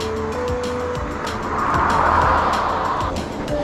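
A car passes on a road in Krabi with a steady engine and tyre roar that swells to a peak midway and then fades. Faint mechanical ticking runs underneath.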